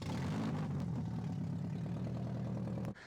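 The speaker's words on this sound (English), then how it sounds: "I'm still unsure to figure out why it's idling a little bit rough." A BMW E36 with an M42B18 four-cylinder engine idles roughly, a steady low uneven throb heard close for a few seconds before cutting off abruptly.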